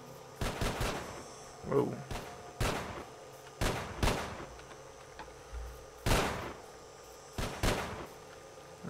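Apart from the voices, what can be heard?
gunfire in STALKER Call of Pripyat video game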